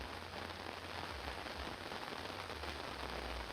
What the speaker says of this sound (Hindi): झमाझम बारिश कई जगह पर हो रही है